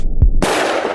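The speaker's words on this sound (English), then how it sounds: "The old man fires his rifle." A single sharp rifle shot fired by an old man in a horror story, a close, loud bang followed by a sudden wash of sustained rushing noise.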